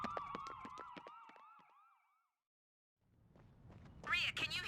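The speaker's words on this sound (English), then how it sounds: "Ambulances. Tons of them." Wailing ambulance sirens from the video game Trauma Team, several overlapping swept tones for about two seconds, then a pause before voices and game sounds take over.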